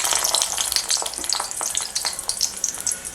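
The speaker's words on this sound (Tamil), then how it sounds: "இப்போ இந்த கத்திரிக்காவை நாம் என்ன பண்ணணும் அப்படின்னா லைட்டாக ஒரு ஃப்ரை பண்ணிக்கலாம்" Small brinjals fry lightly in a pan, a dense, crackling sizzle of hot oil running steadily and fairly loud throughout, close up with no voices.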